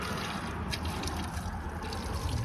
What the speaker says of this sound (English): I'm just gonna rinse all that coolant down.